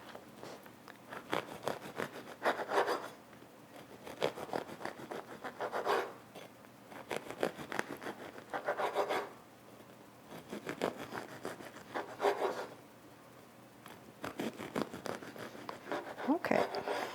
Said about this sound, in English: Now next I will cut the bread, and I'm cutting slices not too thick, like thumb wide